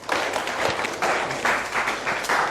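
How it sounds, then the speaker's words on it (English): Audience at a university dialogue event clapping in bursts, close and fairly loud, the applause swelling in uneven waves over a few seconds. "Can we clap for him, please?"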